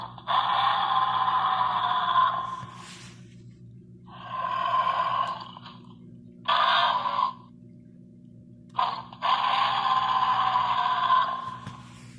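A Playmates Skar King action figure from Godzilla x Kong, activated by a button on its back, emits four separate raspy roaring, snorting sound effects with short quiet pauses between them over a faint background hum.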